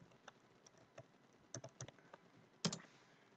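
Scattered keystrokes on a computer keyboard while entering text into an Excel spreadsheet: sparse, close clicks with a brief flurry near the end, over a faint room hiss.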